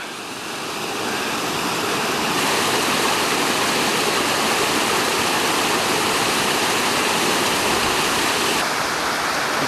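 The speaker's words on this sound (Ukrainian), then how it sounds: "Сказано ж, бо Смотрич маленька, але горда річка." Small river stream, the Smotrych, rushing and splashing over rocks in a steady, loud, continuous wash with no talk.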